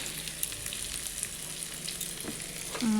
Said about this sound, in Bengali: ভালো করে এদিকে কষায় নেব।